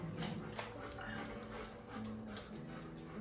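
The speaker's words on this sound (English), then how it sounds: "If you hear the dog in the background," A dog whimpers and whines in the background of a hallway in a home, high thin cries coming and going faintly behind other room noise.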